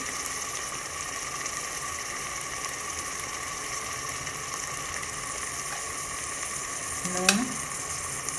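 Spice tempering of turmeric and red chili sizzles steadily in hot oil in a pan for gajar matar, a constant loud frying hiss, with a brief clatter of stirring near the end.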